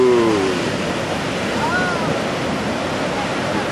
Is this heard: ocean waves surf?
yes